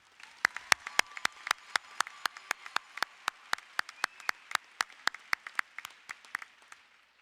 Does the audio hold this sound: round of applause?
yes